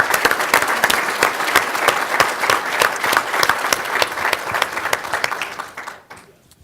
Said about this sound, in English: Please join me in a warm round of applause for their continued support